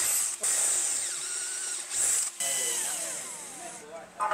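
A power drill bores holes in wood through a pocket-hole jig, a loud whining motor in several bursts separated by brief pauses, with speech mixed in.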